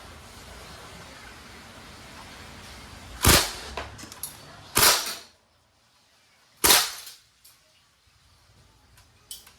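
A Crosman A4-P CO2 airgun fires steel BBs on full auto in three short, sharp bursts, each a quick rattle of shots over faint background hiss, with a few lighter clicks in between.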